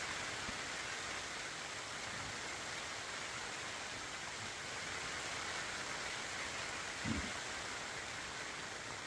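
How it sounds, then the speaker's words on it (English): Rain, shifting between icy precipitation and rain, falls on a tent in a soft steady hiss, faint and even, with one brief low thump partway through and no speech. "It's just going back and forth from ice to rain, ice to rain."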